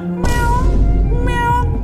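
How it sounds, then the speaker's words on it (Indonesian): A cat meows loudly and close by, with a drawn-out tonal cry followed by a second shorter meow, standing alone without talk. "Itu kucing"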